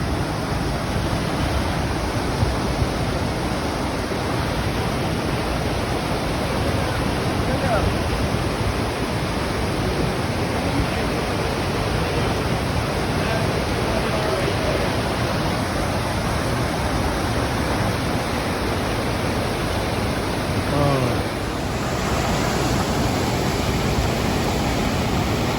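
Rushing river water at rapids along a paddling route from Sebago to the sea, a loud unbroken roar of churning water filling the whole stretch without pause.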